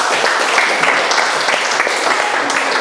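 A classroom full of students clapping together in steady, dense applause, loud and close, with no talking over it.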